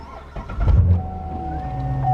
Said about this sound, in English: turn your car on, right?